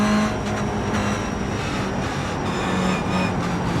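A Toyota GR86 race car engine in the iRacing video game drones loudly and steadily at high revs, with a constant buzzing tone and slight pitch shifts, no talking.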